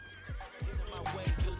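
A horse in the online game Albion Online gives a short, loud whinny with a run of rapid descending snorting pulses, close and clear, and almost no talk over it.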